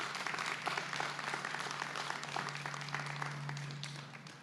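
A crowd at a Veterans Day ceremony applauds Donald Courtney with steady, sustained clapping that stays fairly even before easing slightly at the end, heard at moderate volume with no voices.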